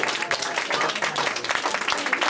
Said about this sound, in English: Please give him a round, warm applause.